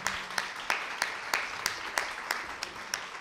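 Quiet, rhythmic clapping from an audience at a tribute and open lecture, with claps landing roughly three times per second as if in unison and heard at some distance.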